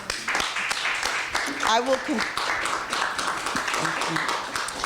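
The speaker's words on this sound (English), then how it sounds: "Give him a round of applause." An audience at a panel on the creative economy and a cultural plan claps to welcome an architect, a moderate ripple of applause with voices speaking over it.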